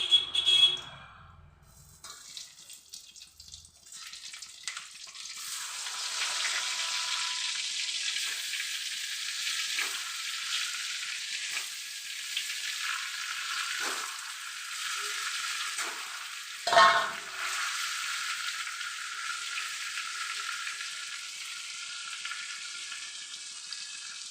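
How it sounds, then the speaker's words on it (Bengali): Potatoes fry in oil with a steady, hissing sizzle that builds after a quieter start and runs on unbroken, with one brief louder crackle partway through. "এই তেলের মধ্যে আমি আলুগুলো একটু হালকা ভেজে লাল করে ভেজে তুলে নেব।"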